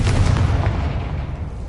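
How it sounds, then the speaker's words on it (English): A Confringo fire spell explodes in Hogwarts Legacy, a loud booming blast with a heavy low rumble that trails off gradually over a second and a half, with no voices. "Confringo!"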